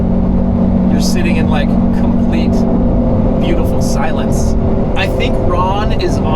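A Lamborghini Revuelto fitted with a Gintani exhaust gives a loud, deep, steady engine rumble throughout, with no sharp revs. Someone talks continuously over it.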